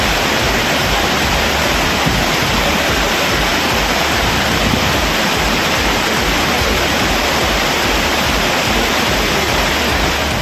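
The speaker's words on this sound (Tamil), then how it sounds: "திடீரென குற்றாலம் மெயின் அருவி மற்றும் பழைய குற்றாலம் அருவிகளில் காட்டாற்று வெள்ளம்" Flash-flood water pours heavily at the Courtallam main waterfall after rain, a loud, dense, unbroken roar of rushing water with no voices.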